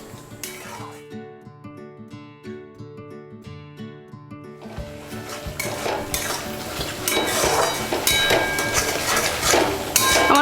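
Spices and oil being stirred and fried in a pot for hilsa biryani, with a continuous loud sizzle and frequent metallic clanks of a spoon scraping the pot, close up, over a background of tonal music.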